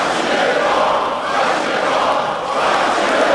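A large crowd at a political rally chants slogans in unison, a dense, loud, continuous roar of many voices that swells and dips in rhythmic waves.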